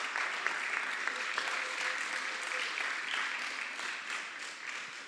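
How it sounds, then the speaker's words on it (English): Sustained audience applause fills a commission meeting room, a steady wash of many hands clapping at moderate distance, fairly even in loudness throughout with faint voices underneath. "If you join me up here, please,"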